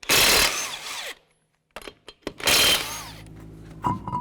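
Two loud bursts of a power tool spinning a 21mm socket off the lug nuts of a 2011-2014 Hyundai Sonata wheel, close and harsh, separated by a pause with short clanks and rattles.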